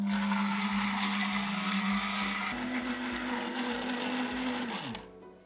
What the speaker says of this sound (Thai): ทีนี้เราจะปั่นทั้งหมดเข้าด้วยกันนะคะ